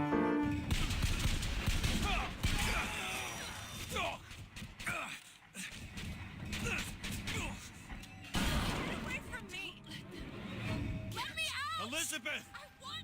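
Shotgun blasts and other combat noise from Bioshock Infinite crack through the game's soundtrack in irregular bursts, mixed with frequent character voices.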